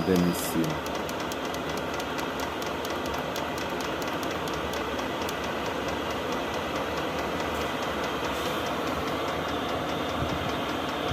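A MAR-POL M80950 diesel air heater warming a garage, running with a steady droning hum and blowing warm air, continuous and close, while a person talks over it.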